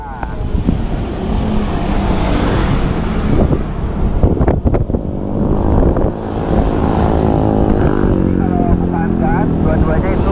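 Honda Beat scooter converted to electric power climbing a steep hill with a passenger, giving a steady motor and road hum with wind buffeting the microphone throughout, and a person talking over it.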